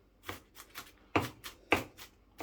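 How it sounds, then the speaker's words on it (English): A knife chopping an onion on a cutting board gives a short series of crisp, irregular taps, a couple of them louder than the rest, close by and with no talking. "Where you see big pieces, you just need to cut them."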